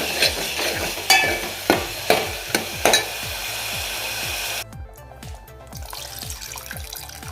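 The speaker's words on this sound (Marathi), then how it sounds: "तेच पाणी मी यामध्ये ओतलं आहे" Water pours into a pan of green-masala field bean curry with liquid splashing, while a spoon repeatedly scrapes and knocks against the pot in a steady stirring rhythm.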